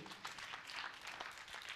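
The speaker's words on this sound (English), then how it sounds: "Please a round of applause for him" Faint, distant applause for an honoured guest at a book launch, a steady patter of clapping from the audience that continues for a couple of seconds without any talk.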